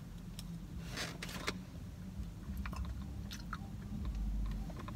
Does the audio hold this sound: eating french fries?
yes